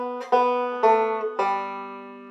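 A banjo picks a short melody phrase from the folk song "It Takes a Worried Man" in three clear, evenly spaced plucked notes that ring and decay cleanly with no accompaniment.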